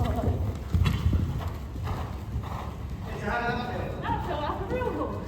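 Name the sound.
horse hooves during a jumping lesson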